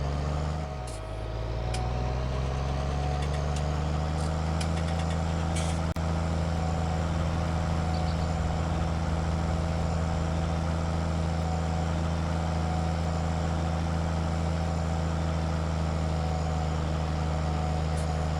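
Fendt Trisix tractor in Farming Simulator 19 driving at high speed, a loud, steady low engine drone with constant pitch that holds without a break throughout, with no talk over it.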